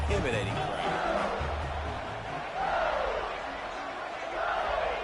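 A big stadium crowd at a college football game roars, yells and screams in sustained waves, loud and dense throughout, swelling and easing without letup.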